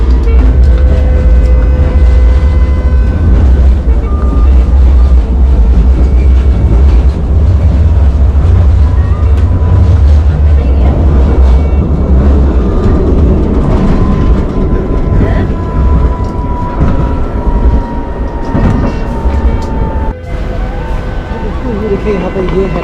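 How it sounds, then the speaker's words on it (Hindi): Riding a Paris tram: a loud, continuous low rumble of the moving car with rail squeals and rattles throughout, and a voice talking over it. "देखिए यहाँ पे ये है ट्राम पेरिस की, और बैठ तो गया इसमें"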